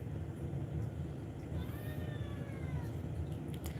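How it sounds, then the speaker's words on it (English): A faint cat meow rises once over a steady outdoor background hum, distant and brief, with no speech during it. "Is that a dog? No, it's a cat."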